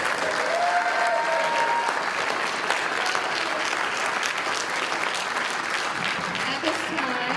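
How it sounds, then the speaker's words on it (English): A school concert crowd gives steady, dense applause for a high school symphonic band, continuous throughout with a few whoops rising above the clapping. "How about another round of applause for our symphonic band?"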